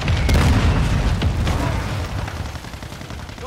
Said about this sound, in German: Ach so, Mörserschlag, okay.